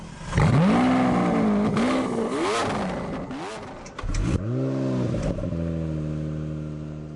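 A 730-horsepower car accelerating hard, the engine revving up through rising, sweeping tones, dropping briefly at a gear change, then climbing again, loud and close.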